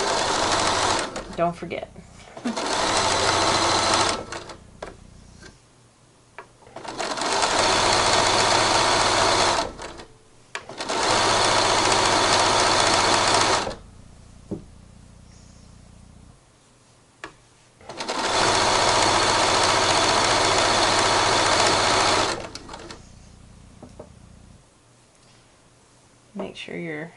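A sewing machine stitches a mermaid tail seam with a 1-inch seam allowance, running in several long steady bursts with pauses between them, and a person talks quietly during the gaps.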